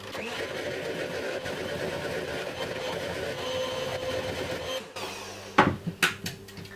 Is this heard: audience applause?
no